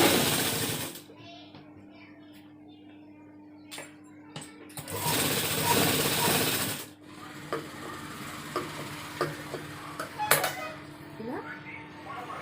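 A sewing machine stitches joined trouser waistband pieces in a tailoring session, with a sustained mechanical whirr in two bursts separated by pauses and faint handling noises between them.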